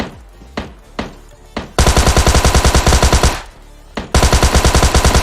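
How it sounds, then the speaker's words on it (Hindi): Loud machine gun fire in a video game: a few single shots, then two sustained rapid automatic bursts, close and harsh, with brief gaps between them. "कौन गोली चला रहा है रे"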